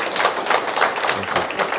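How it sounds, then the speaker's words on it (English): A room at a live panel discussion giving a round of applause, brief scattered claps with some murmuring voices underneath. "you have to give Toivo a round of applause for that"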